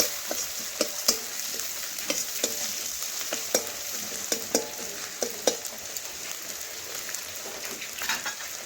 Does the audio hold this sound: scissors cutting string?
no